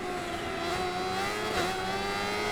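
Kawasaki Ninja H2R motorcycle engine in Ride 4, a steady high-pitched whine held under hard acceleration, loud and close with no break in the tone.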